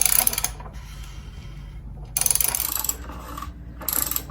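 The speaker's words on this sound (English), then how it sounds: "the 15/16 socket, and we want to make sure that we don't tighten it too much" A 15/16 socket ratchet tightens the oil drain plug on a 2016 Jeep Wrangler JK, giving three short bursts of rapid, close clicking with quiet gaps between them.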